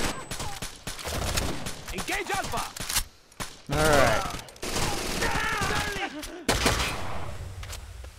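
Gunfire crackles in a Rainbow Six Vegas 2 terrorist hunt match, with loud rapid bursts and sharp single shots spread across the scene. Voices talk over the shooting, and a short silence breaks up the action.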